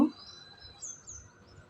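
Pet birds set out in the sun on a rooftop on a cold winter day give faint, brief high chirps over a quiet background.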